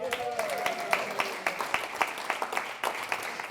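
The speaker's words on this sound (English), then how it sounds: "you deserve a big round of applause" Audience applause at a Democratic club monthly meeting in Laguna Woods, many hands clapping at a brisk uneven rhythm in a room, moderately loud, with a voice speaking briefly at the start.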